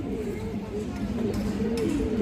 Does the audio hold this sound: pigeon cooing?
yes